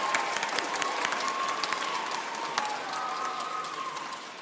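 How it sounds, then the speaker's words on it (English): Audience applause for choir conductors at a choral gathering, a dense, steady wash of clapping with some cheering, sustained and fairly loud throughout with a faint tone running underneath. "Let's clap. Give them a big hand."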